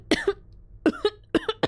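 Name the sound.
character coughing in video game Corpse Party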